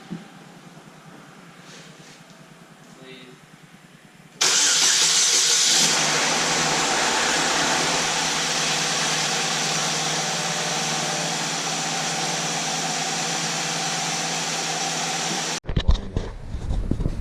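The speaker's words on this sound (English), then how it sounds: "I'm going to go for the first startup." 2009 Chevy Cobalt engine starting for the first time after a head gasket repair, with the car on jack stands: a sudden loud catch into a steady, hissy idle that holds for about eleven seconds before cutting off abruptly.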